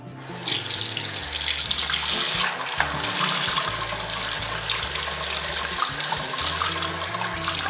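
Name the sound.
rinsing a synthetic shaving brush under running water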